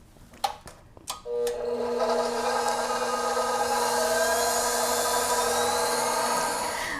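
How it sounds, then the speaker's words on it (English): A stand mixer whips egg whites for macarons, starting with a few sharp clicks and knocks, then settling into a steady, loud, continuous motor whir with a high whine that holds for several seconds. "we're gonna whip the egg whites first"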